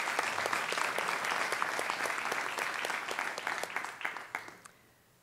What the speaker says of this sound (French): ça mérite une main d'applaudissement.